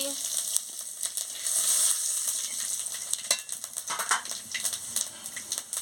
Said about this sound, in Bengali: শুকনো লঙ্কাটা দিয়ে দিচ্ছি